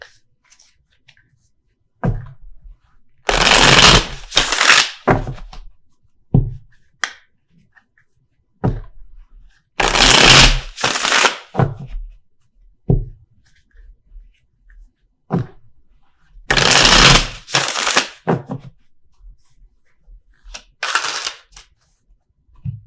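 Tarot cards shuffled in three short, crisp riffling bursts separated by quiet gaps, with a few light taps and clicks between them.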